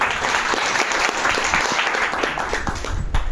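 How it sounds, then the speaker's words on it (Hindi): Audience at a seminar applauding new guests, dense steady clapping from many hands filling the whole stretch. "एक बार नए मेहमान के लिए शानदार ताली होना चाहिए"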